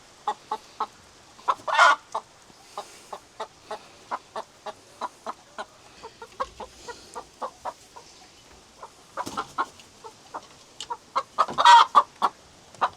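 Backyard chickens cluck near their coop in a steady run of short, close clucks, with a few louder squawking bursts partway through and toward the end.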